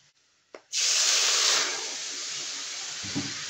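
Spice masala of turmeric, chili and coriander powder with green chilies is being fried in a pan. After a quiet start the frying breaks into a sudden loud hiss that stays steady, then eases slightly, and a small clink follows near the end.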